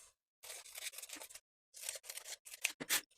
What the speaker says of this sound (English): Then I'll trim off a 1/2 of an inch from both long edges.